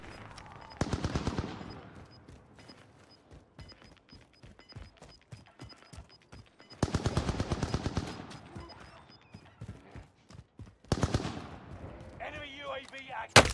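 Rapid automatic gunfire from the video game Call of Duty Modern Warfare comes in bursts of fast, close shots separated by sparser single cracks, with loud blasts breaking in between.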